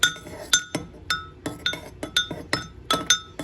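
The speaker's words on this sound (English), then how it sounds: "You hold the spoon. Okay. Okay, now stir it up." A spoon stirs food in a hot pot, making a crisp rhythmic clink against the pot about twice a second, close and clear with no talk.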